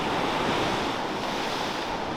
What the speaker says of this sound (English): Lots of rock, angry ocean.